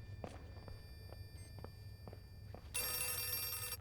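A telephone bell rings inside the horror video game Outlast 2, starting suddenly as a loud, bright, sustained ring after a stretch of faint footsteps and low ambient hum.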